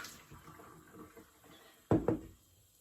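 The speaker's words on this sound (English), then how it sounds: "And then I pour it on my lid." Hot water poured onto a jar lid in a sink, two quick close splashes near the end after faint trickling and handling sounds.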